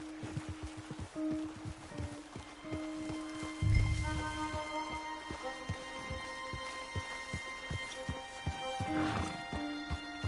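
Horses in the video game Red Dead Redemption 2 whinny and snort over a steady clip-clop of hooves, with a louder neigh midway and another toward the end, set against quiet outdoor ambience.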